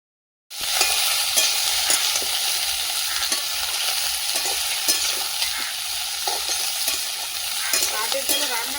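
Sliced ridge gourd frying with nigella seeds in oil over a wood fire, a steady close sizzle with spatula stirring scrapes and crackles, starting abruptly and continuing without voices.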